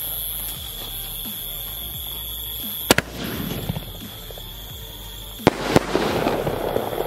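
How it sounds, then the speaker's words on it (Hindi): Cheema sky shot fireworks, one red and one yellow, lit together outdoors, with a steady hiss and crackle broken by a few sharp bangs and rising fizzing bursts. "एक रेड और एक येलो, दोनों को जलाते हैं साथ में और देखते हैं कैसा इफेक्ट देखने को मिलता है"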